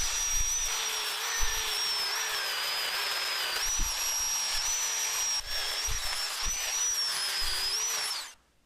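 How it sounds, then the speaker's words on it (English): An electric drill fitted with a heavy wire brush grinding burrs off steel angle iron on a wood splitter, a continuous high whine with scraping bumps, running steadily before stopping at the end. "I'm going to take the heavy wire brush and the drill and go along and see if we can get rid of"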